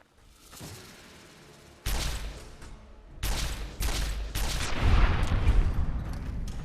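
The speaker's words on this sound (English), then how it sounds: "The recharger rifle, I gotta say, it's better than I remember." A recharger rifle fires in Fallout New Vegas, with several bursts of energy weapon shots cracking out after a quiet start. The shots are loud and close, with a dense flurry near the end and no voices.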